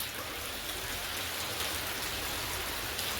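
Steady rain falls nearby, a constant dense patter with no breaks.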